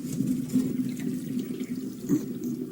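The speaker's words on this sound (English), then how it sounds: "Go ahead and pour it all at once, all over their body." Hot water mixed with shampoo poured from a pitcher all at once over a cat's body during a home bath, a steady splashing pour running the whole time with a brief louder gush near the end.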